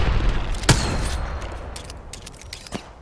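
Gunfire in the video game Apex Legends, with a loud nearby shot followed by a scattered volley of distant cracks over a dense, rumbling low background and no talking.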